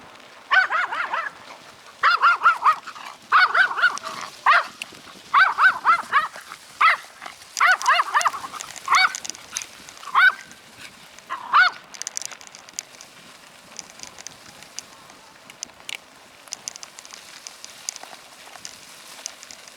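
Dogs bark outdoors in repeated bursts, loud and fairly close at first, then thinning out into sparser, fainter yips.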